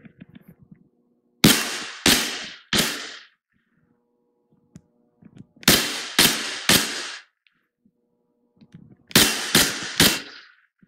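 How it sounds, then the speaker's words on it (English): KWA adaptive training pistol firing in three quick triplets of sharp, loud cracks, each burst separated by a few seconds of near silence. "We're gonna go ahead and show you some shots coming from the actual laser."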